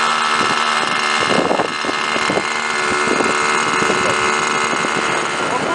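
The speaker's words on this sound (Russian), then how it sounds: "Пытаемся запустить самолет уже второй раз." A model airplane engine runs steadily at close range during a second launch attempt, a continuous buzzing drone with some handling knocks and no clear talk.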